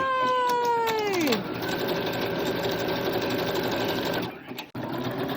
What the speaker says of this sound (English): I just use my normal sewing machine